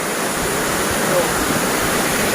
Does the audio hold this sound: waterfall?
yes